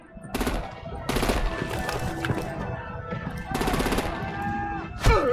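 Rapid machine-gun bursts fired at vehicles in the Batman Telltale game, several loud automatic volleys separated by short gaps over a busy background rumble, ending with a sharp impact, with voices heard in between.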